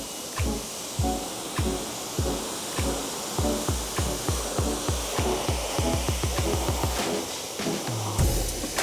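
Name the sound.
water spray rinsing a car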